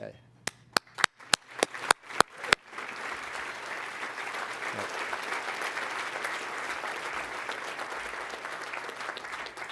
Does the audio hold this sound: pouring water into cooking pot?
no